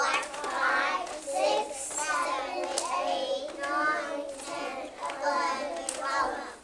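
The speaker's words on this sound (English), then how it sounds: "Tap your knees 12 times." A kindergarten class tapping their knees twelve times in a counting lesson, soft rhythmic hand taps heard under children's voices counting aloud together in a steady beat.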